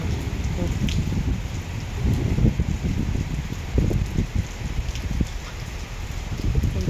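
Rain falls steadily around a house, a dense continuous patter with low rumbling texture, fairly close and even throughout.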